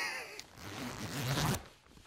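A winter cycling jacket's zip is pulled in one quick, close rasping run lasting about a second, crisp and fairly quiet against a still background.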